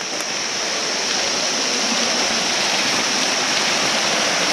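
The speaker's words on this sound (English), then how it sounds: "a little waterfall here." A small waterfall in Ilam, Nepal rushes steadily, a dense, constant wash of falling water that stays loud and unbroken throughout with no voices over it.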